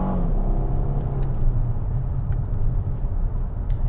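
A 2013 Ford Taurus SHO with a twin-turbo V6 and 120K miles hums and rumbles from inside the cabin while driving, a steady low engine drone with road noise and faint ticks, no voices.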